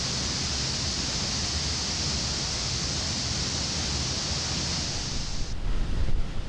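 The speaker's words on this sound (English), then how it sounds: "The water deluge test confirms the correct operation of the ignition overpressure and sound suppression system" Water pours from a rocket launch pad's deluge system during a test for ignition overpressure and sound suppression: a loud, steady, broadband rushing roar like a waterfall that holds evenly, then drops off and changes near the end.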